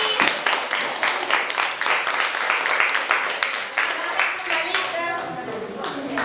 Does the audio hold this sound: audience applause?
yes